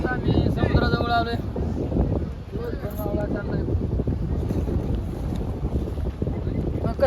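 Big waves roll in by the sea near Murud-Janjira fort while strong wind buffets the microphone, a constant loud roar of surf and gusts with a voice speaking briefly at the start.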